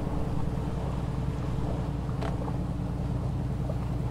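A traditional wooden sailing boat crossing open water in Alcântara, heard as a steady broad rush of wind and water noise with a low engine-like drone and a faint brief squeak, no speech.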